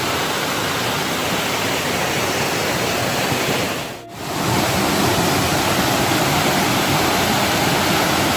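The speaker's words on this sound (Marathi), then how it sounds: "छोटंसं धबधबा आमचं" A small waterfall in a village forest pours with a loud, steady rushing roar. The sound is close and constant, dipping briefly for a moment midway.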